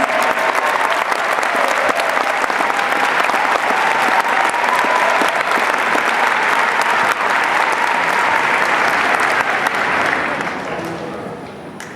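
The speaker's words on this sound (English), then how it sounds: "If we can give him more round of applause for all of his efforts." Loud, sustained applause from the audience at a high school marching band Christmas concert, a thick continuous roar of many hands that holds steady for about ten seconds and then tapers off at the end, with faint voices underneath.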